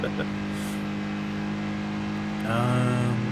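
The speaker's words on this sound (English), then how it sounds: "now we can kind of hear the boxer engine a little more, as terrible as it sounds" Boxer engine of a Daihatsu Copen in the racing game Tokyo Xtreme Racer 2025, a steady droning hum that rises into a louder revving whine near the end, with speech over it.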